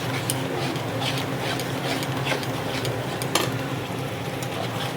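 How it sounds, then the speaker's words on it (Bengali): Spices being sautéed in a pan for palak matar paneer, a steady close sizzle with faint scraping stirs running continuously. "যতক্ষণ না মশলা গন্ধটা না যায় ততক্ষণ কষাতে হবে ভালো করে।"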